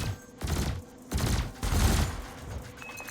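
Spaceship cannon and laser weapons firing in Elite Dangerous, heard as three loud, close bursts of rapid blasts, each lasting about half a second, separated by brief pauses.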